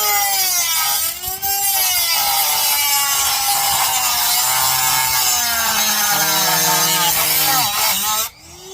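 A hand saw cuts through the soft wood of a junk guitar body, rasping in loud, rhythmic back-and-forth strokes up close, then stops near the end.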